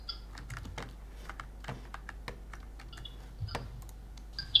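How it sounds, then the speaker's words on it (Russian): Rapid keyboard typing with sharp, irregular keystroke clicks and occasional mouse clicks, close and fairly quiet, during a gaming stream with no speech. "Юля, это у тебя такая клава?"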